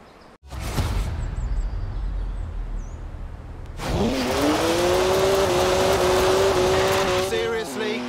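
A BMW 1M engine in a driving video game, a steady droning engine note that rises and swells into a louder, higher rev midway through, with tire noise and a voice speaking over it.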